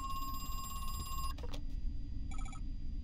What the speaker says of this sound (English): he's calling us on the phone